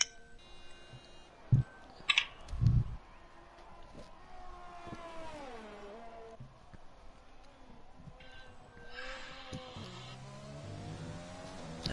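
A race car runs an out lap in a sim racing championship round set in Italy, engine tone rising and falling through gear changes with a few sharp thumps, fairly faint.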